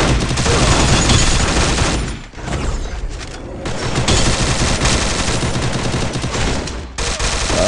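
Dense, loud gunfire in the mobile game Free Fire Max, with continuous automatic bursts layered together for the whole stretch, briefly dipping before resuming at full intensity.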